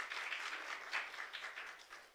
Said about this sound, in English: Round of applause to that